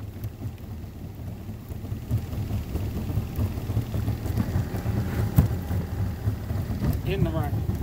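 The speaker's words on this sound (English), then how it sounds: "That's right, a little rain." Steady rain patters around a riverbank while bank-pole catfishing, a continuous soft hiss with low rumbling underneath and occasional voices over it.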